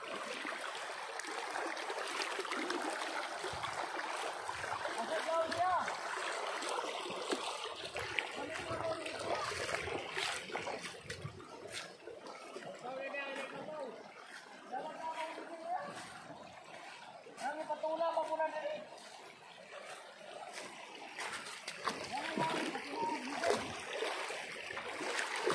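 A small creek flows steadily with a soft, continuous trickle and splash, heard nearby outdoors while people talk over it now and then.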